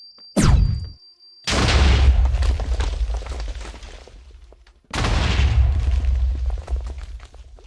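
A Minecraft house blown apart by a plasma cannon: two loud, booming explosions about three seconds apart, each with a sharp blast that decays into a long rumbling tail, preceded by a quick rising whoosh.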